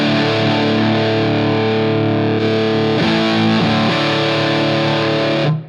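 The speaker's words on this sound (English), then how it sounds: "It's kind of a fizzy, buzzy distortion" A Helix guitar amp model pushed into fizzy, buzzy distortion sustains a loud, dense chord, briefly re-struck midway, ringing continuously before cutting off sharply at the end.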